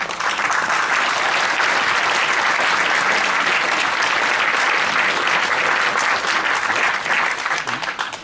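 A large audience applauds loudly and steadily for the whole stretch, dense clapping with no gaps, at a French event for the film La Syndicaliste.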